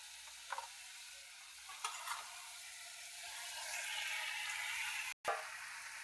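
Butter tempering sizzles in a pan for pasta, a soft, continuous frying hiss with a few faint stirring clinks and a brief cut near the end.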